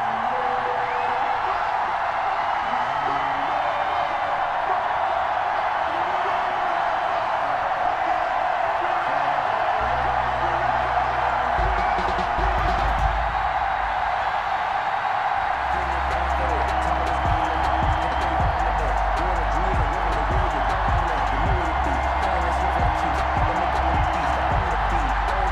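A stadium crowd at FedEx Field in Madden 21 for a Ravens at Washington football game roars and cheers continuously, with a bright broad wash of noise and a deeper swell midway, under steady commentator talk.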